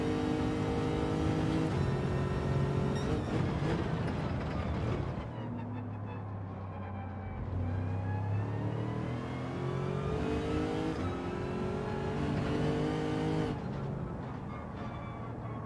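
A Lamborghini engine in Gran Turismo 7 revs hard and steadily, climbing through gears with brief dips between shifts. Its loud, close, continuous whine and roar fills the whole stretch without voices.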